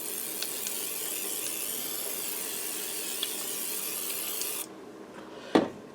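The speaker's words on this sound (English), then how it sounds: "Now I'm going to spray a little more olive oil on top of my potatoes." A continuous hissing spray of olive oil onto potatoes lasts several seconds, then stops abruptly, followed by a short clunk of handling.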